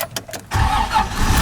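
A 1986 Toyota Land Cruiser FJ60 engine starts close by, a brief starter crank that catches at once into a loud, steady running rumble.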